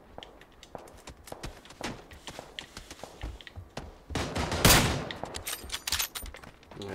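Enemy gunfire in PUBG gameplay, scattered distant shots and short bursts cracking at irregular intervals, with one louder, sharper burst near the middle.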